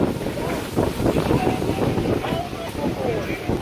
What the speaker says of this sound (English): There's a big storm here.